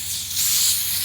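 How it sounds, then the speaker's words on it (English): A loud, continuous hiss of air rushing out of an inflatable tent's poles as they deflate, steady and close, swelling slightly partway through and running without pause. "Time to deflate and let the air out of these poles."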